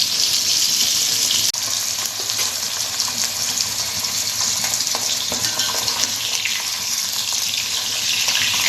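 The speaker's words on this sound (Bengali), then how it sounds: "আমি পাবদা মাছগুলো ভেজে নিচ্ছি" Pabda fish frying in a pan, a steady loud hiss and crackle of hot oil that runs without a break and fills the whole stretch, with no talk over it.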